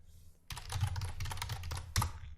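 Quick, close keystrokes on a computer keyboard, a rapid irregular run of clicky taps that starts after a brief quiet moment and continues to the end.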